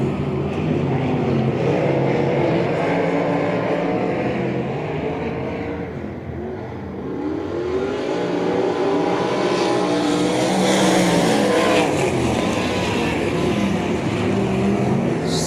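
Bandit Outlaw Sprint Series sprint cars race on a slick dirt track at Heart O' Texas Speedway, several engines roaring loudly and continuously, rising and falling as they power through the turns, with no talk.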